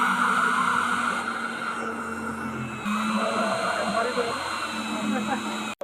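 An electric drill bores holes in the case of an 800 VA pure sine wave IPS inverter, a steady, loud motor whine running nearly unbroken for about six seconds before cutting off abruptly.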